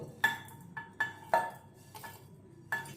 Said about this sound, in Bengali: এবার এখানে একটা মিক্সির জার নিয়ে নিয়েছি এর মধ্যে সব মশলাগুলো দিয়ে দেব